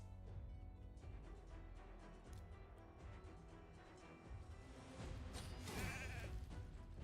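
Sheep bleating in a video game arena match, a wavering animal cry rising near the end over busy game effects, close and moderately loud.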